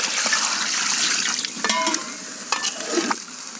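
Water poured into a hot pot of Indian-style turkey curry, a hissing sizzle and splash with stirring scrapes, close and fairly loud for a few seconds.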